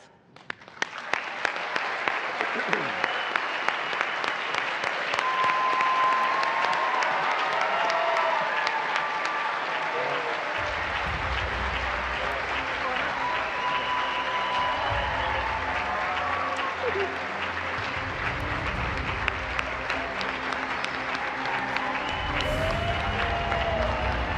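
A large ceremony audience applauds as NASA's 23rd astronaut class is welcomed at the astronaut candidate graduation, a long, full roar of clapping with some cheering, continuous and even throughout.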